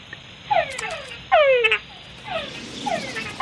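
Male frogs call for females at night on Bat Island, giving a series of sharp, close, downward-sweeping croaks spaced about a second apart, with one louder double call in the middle.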